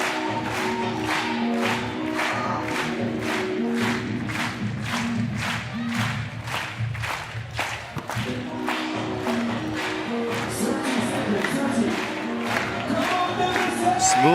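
A basketball arena crowd at the FIBA 3x3 World Tour Debrecen 2023 finals claps in a steady, rhythmic beat with loud cheering throughout, the pulse swelling and quickening toward the end.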